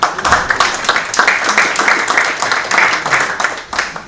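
An audience at an academic surgery society session bursts into sustained, close applause, dense clapping that holds steady for a few seconds.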